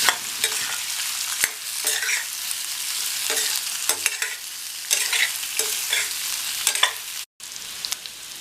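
Potatoes with turmeric and salt are stirred in a frying pan: repeated scraping strokes of a spoon over a steady sizzle, close and moderately loud, with no talking.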